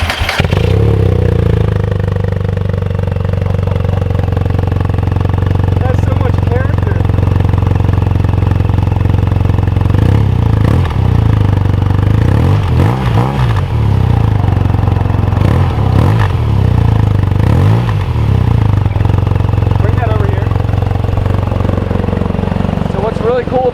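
A 2017 BMW R nineT motorcycle engine rumbles to life and settles into a loud, steady idle, with rhythmic mechanical clatter and occasional blips of revving throughout.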